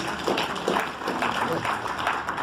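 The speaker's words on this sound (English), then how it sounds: "A big round of applause for him, please." Applause for a speaker at a talk on agricultural policy, a continuous burst of many hands clapping with voices underneath, fairly close.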